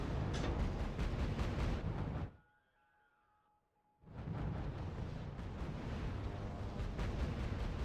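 Units fire in the RUSE strategy game as a dense, loud roar of artillery and explosion bursts that cuts to near silence for a moment, then resumes just as thick.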